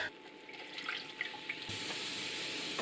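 Infused milk poured into a flour-and-butter roux for a Scots macaroni pie, a steady liquid stream that swells louder partway through and runs on continuously close by.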